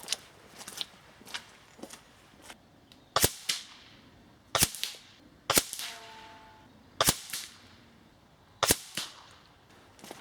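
An FX Impact M3 air rifle fires 39 grain Wildman slugs, giving a series of sharp, close cracks with short ringing tails, several spaced shots punctuated by softer handling clicks.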